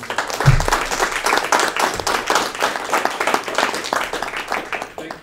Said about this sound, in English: let's all give Mohammad a round of applause